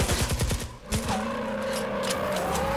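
A test weapon fires in Fortnite: Save the World, a rapid burst of gunshots followed by another short volley, then a sustained ringing hum and in-game ambience.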